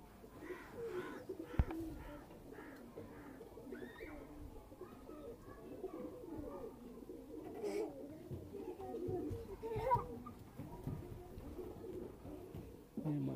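Missay breeder pigeons, a male and female pair, cooing steadily throughout amid a background of other bird calls, with no talking.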